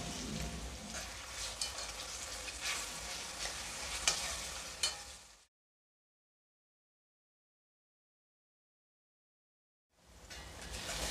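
Onion and tomato frying in a pan for hotel-style egg dum biryani, a steady close sizzle with stirring scrapes that cuts to silence midway and then resumes.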